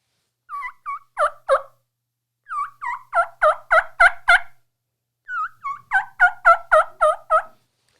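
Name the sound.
turkey call imitating lost hen kee sound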